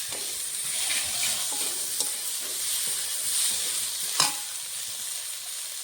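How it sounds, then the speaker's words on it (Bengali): Taki fish frying in hot oil with onion, garlic and green chili, a steady close sizzle and hiss with light stirring scrapes and one sharper clack near the end; no voices. "মাছের সঙ্গে পেঁয়াজ রসুনটা লঙ্কাটাও ভাজা হয়ে যাবে।"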